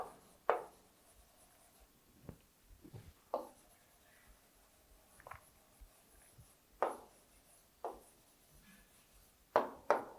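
Pen or pencil writing numbers by hand on paper, with several separate scratchy strokes spaced irregularly over about ten seconds, close and fairly quiet against a soft background.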